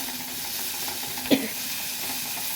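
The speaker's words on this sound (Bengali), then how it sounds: "পেঁয়াজটা আমি লাল লাল করে ভেজে নেব" Onion fries in hot oil for a pumpkin-leaf dish, giving a soft continuous sizzle. A brief stir or clink of a utensil against the pan breaks through midway.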